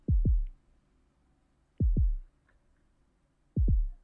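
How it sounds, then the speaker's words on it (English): Kick drum in an electronic track build-up, struck in close double thumps like a heartbeat, three pairs at a steady pace, deep, loud and alone over a faint low hum. "The kick playing sort of a heartbeat, I think, but then the heartbeats get like closer and closer together"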